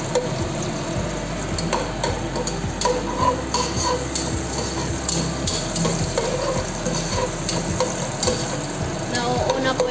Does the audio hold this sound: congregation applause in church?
no